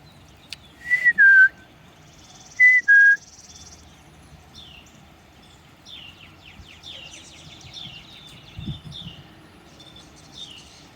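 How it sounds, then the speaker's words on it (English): Out in a spring garden, a chickadee gives its clear two-note whistle song twice, and fainter chirps and birdsong follow against a quiet outdoor background with soft insect noise. "the noise, the whistle song that chickadees make"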